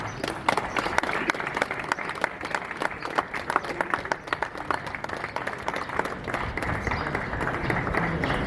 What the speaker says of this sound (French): Et je vous demande de l'applaudir très très fort